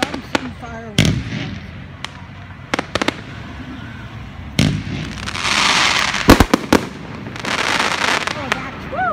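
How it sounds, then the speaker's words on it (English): Fireworks burst at night at an Indian temple, a string of sharp cracks and booms with crackling fizz between them, loud and close, while people chatter and exclaim over them. "it's the first year I've seen fireworks"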